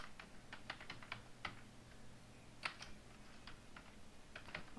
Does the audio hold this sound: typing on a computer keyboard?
yes